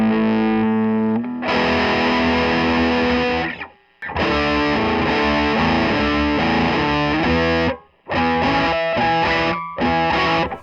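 Electric guitar chords driven through a Bishop Pedals Big Treble in Little China treble booster into an amp's first gain stage, loud crunchy distorted strums in bursts with short gaps, no talking.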